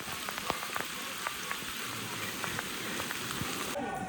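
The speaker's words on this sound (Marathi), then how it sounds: "हे बघा जोरदार पाऊस चालू आहे" Heavy rain pours steadily on a mountain pilgrimage path to Vaishno Devi, a dense hiss punctuated by sharp drip and splash ticks, with a brief break at the end.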